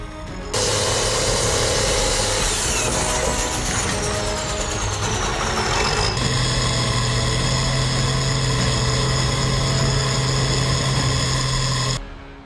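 A giant farm tractor in a power competition, its loud engine roaring steadily and close, with a shift partway through into a steadier, higher sustained drone.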